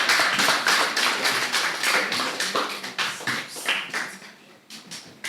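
An audience at a Nigerian school debate competition applauds the school representatives with dense, continuous, fairly loud clapping that gradually thins and fades toward the end.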